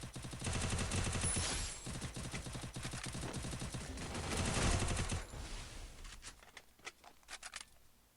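Rapid automatic gunfire in the mobile game Free Fire rattles in long continuous bursts, then gives way to a few sparse single shots near the end.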